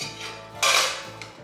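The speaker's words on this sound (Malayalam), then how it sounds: "റിങ്ങിൻ്റെ മേലെ ഒരു പ്ലേറ്റ് വെക്കുക." A plate is set down onto a ring inside a pressure cooker, making one sharp metallic clatter followed by a lighter tap, close and clear in a quiet kitchen.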